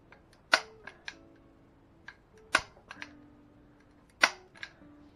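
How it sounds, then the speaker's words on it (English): Staple gun fastening carpet onto a kayak trailer: three sharp, close snapping shots spaced a couple of seconds apart, each followed by small clicks and rattles. "Staple it here."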